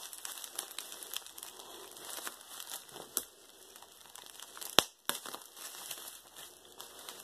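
Paper and tape crinkling and crumpling as a tightly wrapped mail package is torn open by hand without scissors or a knife, steady rustling with a few sharper rips, fairly quiet and close.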